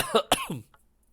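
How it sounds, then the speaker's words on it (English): Two quick, harsh coughs close to the listener, followed by a short rasping throat sound, then quiet. "I got this cough"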